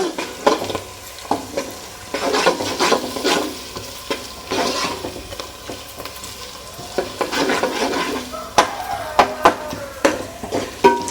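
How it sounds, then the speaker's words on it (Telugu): Chopped onion, green chilli and ginger garlic paste fry in a pan for aloo pulao, a close, steady sizzle with repeated spoon scrapes and knocks against the pot, and no one speaking. "ఇది కూడా మంచిగా పచ్చివాసన పోయే వరకు మనము ఫ్రై చేసుకుందాం"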